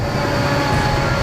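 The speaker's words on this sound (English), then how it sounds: "enormous freight train is out of control, tearing through the Canadian Rockies." An enormous runaway freight train tears through the Canadian Rockies, its heavy rail rumble steady, loud and close with a constant low drone and no voices.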